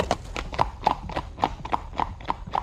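Horse hooves clip-clop in a steady, brisk rhythm, each sharp hollow knock close and clear, roughly three or four strikes per second with no voices over them.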